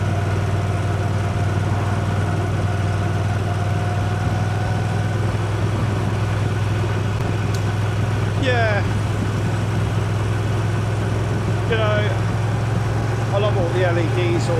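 A motorcycle engine drones in a steady low rumble while riding, constant and close throughout, with someone talking over it and a few brief rising whines partway through.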